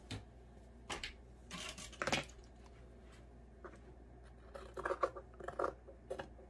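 Scissors snip through fabric pieces for a sewn gnome in several short bursts of crisp cutting, with quieter gaps between, close by and with no talking.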